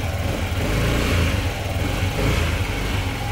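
Car engine revved and held around 3000-4000 RPM during a coolant change, a loud steady drone close by without a clear rise or fall.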